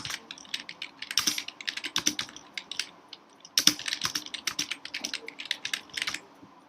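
Computer keyboard typing in an office spreadsheet setting, with quick irregular bursts of key clicks, close and clear, pausing briefly around the three-second mark and then resuming.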